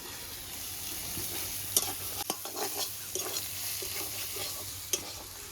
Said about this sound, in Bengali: এবার সুন্দর করে ভেজে ভাজা ভাজা হবে চাউমিনটা দিয়ে দেবো